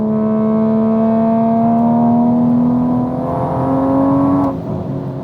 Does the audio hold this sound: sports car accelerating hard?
yes